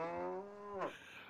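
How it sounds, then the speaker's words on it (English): A single cow in the video game Autobahn Police Simulator 3 gives one drawn-out moo that slides downward in pitch and breaks off at the end, clear and moderately close with no speech. "So here's the cows."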